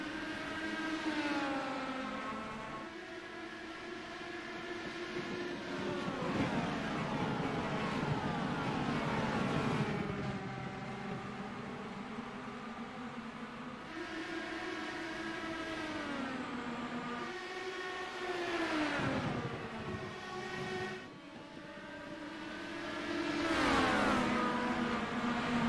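IndyCar race cars in a racing video game at Gateway (World Wide Technology Raceway), loud continuous engine whine with rising and falling pitch as cars accelerate and pass, several engines layered close by throughout.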